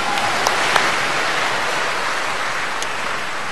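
A church congregation at a Sunday healing Mass claps together for Christ the King, a dense, steady wash of applause that fills the space evenly with no talking over it.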